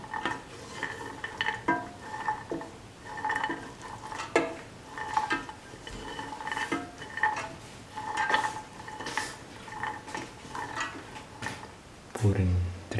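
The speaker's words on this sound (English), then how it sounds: "Keep on sauteing." Chickpea, carrot and rice mixture being sautéed in a pan, with a spoon scraping and stirring in irregular bursts and a faint sizzle beneath, heard close up while a voice speaks at times.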